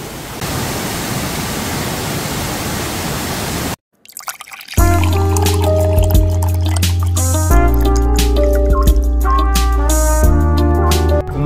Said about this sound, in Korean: 거대한 바위 사이로 이렇게 막 물이 쏟아집니다